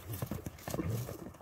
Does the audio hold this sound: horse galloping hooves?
yes